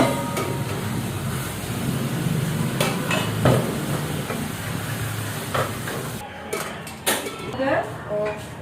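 Food sizzles and crackles steadily in a hot pan, close and continuous, with stirring scrapes and people talking over it.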